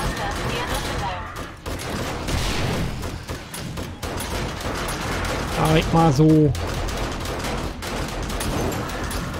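Grenade blasts and gunfire in the zombie survival game 7 Days to Die, during a horde night, with dense, repeated booming bursts throughout and someone talking over the noise.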